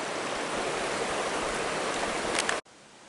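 Creek water rushing beneath Otto Creek bridge on a backcountry hike, a loud steady wash of flowing water that cuts off abruptly near the end.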